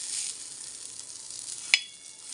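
A cheesy moonglet sizzles softly in a covered pan after being flipped, a faint, steady hiss with a sharp clink near the end.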